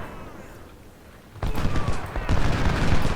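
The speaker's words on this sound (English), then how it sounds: "this group of skirmishers should break as soon as Shayla gets off another good volley" Musket volleys from Civil War skirmishers in Ultimate General: Civil War, a quiet opening giving way to a sudden loud crackle of massed rifle fire that swells again with a second burst and keeps rattling.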